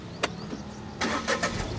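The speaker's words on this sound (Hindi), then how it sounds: "देखिए गाड़ी किस तरह से स्टार्ट करना है" A car engine cranks and catches after the key is turned with the clutch held down during a beginner driving lesson: a short burst, a pause, then a longer run of cranking that settles into a running engine, with no talk.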